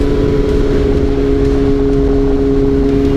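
Kawasaki ZX636 or ZX10R sport motorcycle engine (600 cc class) running close by, a loud, steady, even drone with a constant pitch throughout and no clear rise or fall in revs.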